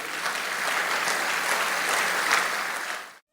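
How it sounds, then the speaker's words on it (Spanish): Applause from a church congregation fills the room, a steady dense wash of clapping that holds loud for about three seconds and then stops abruptly. "Dele un aplauso al Señor."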